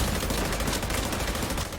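Dense, continuous gunfire in the shooter The Division 2, a thick wall of overlapping shots and blasts that stays loud and unbroken throughout, with no voices.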